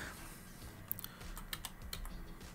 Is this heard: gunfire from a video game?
no